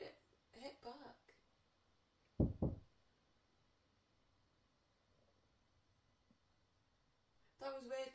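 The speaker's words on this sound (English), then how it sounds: "It knocked it hit back." Two quick, hard knocks land in a burst on the wall of a hobbit hole, loud and close in an otherwise quiet room, while people talk before and after.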